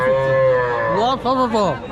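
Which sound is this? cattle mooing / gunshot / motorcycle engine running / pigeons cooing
cattle mooing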